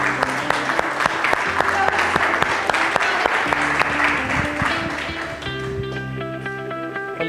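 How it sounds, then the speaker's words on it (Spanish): Audience applause at the opening of an environmental forum in Bahía Blanca, a dense, steady clapping crowd for several seconds, loud and near, with music and voices mixed underneath and tapering slightly toward the end. "Y bueno, un aplauso porque da el ejemplo."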